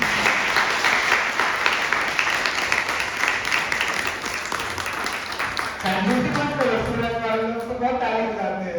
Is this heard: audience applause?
yes